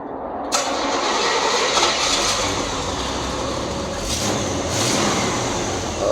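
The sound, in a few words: 1936 Ford truck engine starting and running through exhaust pipes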